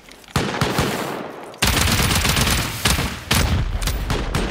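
Turrets firing during a tree base raid in a video game: dense, loud bursts of automatic gunfire, with sharp fresh volleys breaking in every second or two.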